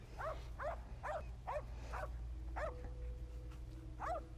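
A treeing hunting dog at a competition barks repeatedly up a tree, sharp evenly spaced barks about half a second apart, loud and fairly near over a steady low background hum.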